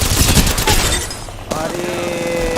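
Rapid automatic gunfire from the video game Apex Legends rattles loud and close, then drops into game effects and a tonal in-game voice line.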